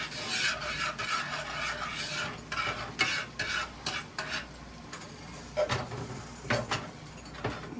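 Alfredo sauce is stirred in a pan on a lowered flame, rhythmic scraping and rubbing strokes of a utensil against the pan, close and fairly quiet, with a faint sizzle beneath and no voices.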